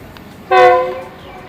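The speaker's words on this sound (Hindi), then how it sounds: "और डाउन ट्रैक के ऊपर भी लोकोमोटिव 9001 इन ऑपरेशन है।" Locomotive 9001 horn sounds on the down track at a station, one loud harmonic blast lasting about half a second before fading, heard alone without talk.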